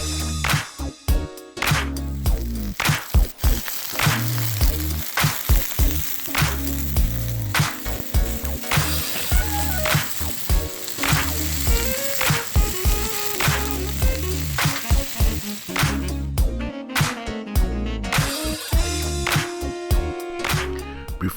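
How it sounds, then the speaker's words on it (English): Shrimp and pork sear loudly on a hot Blackstone griddle, a constant close sizzle punctuated by scraping and tossing of the spatula, with music playing underneath throughout. "We're tossing all the shrimp around to make sure that every piece of shrimp gets an opportunity to get"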